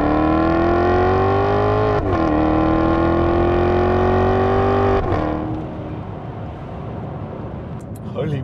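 A Maserati with an MC Shift F1 gearbox pulls away at wide open throttle, its engine note climbing loudly and steadily, then breaking twice at quick gear changes before fading into quieter road noise.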